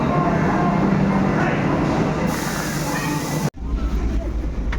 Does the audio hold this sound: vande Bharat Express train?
yes